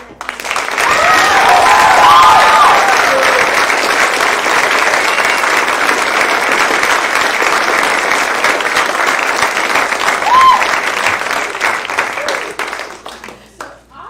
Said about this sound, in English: So, huge round of applause for the man.